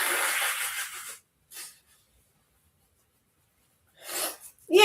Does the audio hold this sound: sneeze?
yes